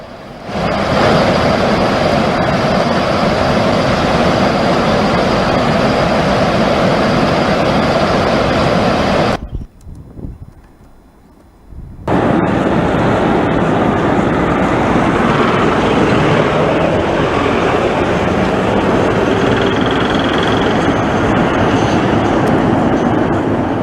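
Floodwater roars through the opened gates of the Salal dam on the Chenab river, a loud continuous broadband rush that drops almost to silence for a few seconds midway, then resumes just as strongly.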